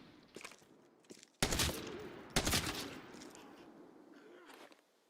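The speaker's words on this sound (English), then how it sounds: "Why did a gun sound suppressed?" Suppressed gunfire in a video game: a few muffled, thudding shots in quick bursts, with two louder clusters and softer shuffling in between.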